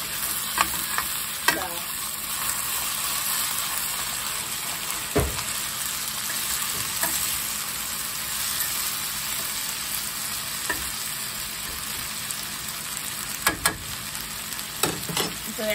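Corned beef hash browns in a pan with a steady, close sizzle, broken by occasional sharp scrapes and clicks as it is stirred and turned.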